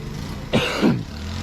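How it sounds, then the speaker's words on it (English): A single short, harsh cough from pollen, close and fairly loud, rising out of a quiet background hum outdoors in a garden. "All this pollen's getting to me, making me cough."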